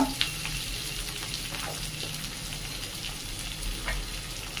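Chopped onion with curry leaves and a pinch of asafoetida sautés in a pan, giving a continuous soft sizzle with light stirring scrapes, steady and fairly quiet throughout.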